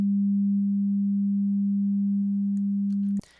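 A steady pure 200 hertz sine tone hums alone at even loudness for about three seconds, then cuts off abruptly with a short click.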